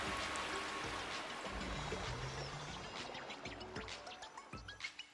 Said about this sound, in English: now we gotta raise the water again